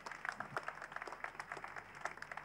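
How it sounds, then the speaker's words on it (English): A church audience applauds after a testimony, a quiet, somewhat distant patter of many hands clapping in an uneven rhythm. "Let's clap for Jesus Christ."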